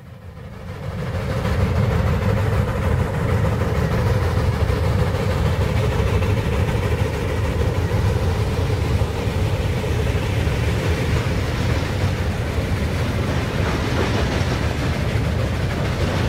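An HO scale model log train on a timber railway layout rumbles along steadily downgrade with a continuous clickety-clack of wheels, no voices, for the whole stretch.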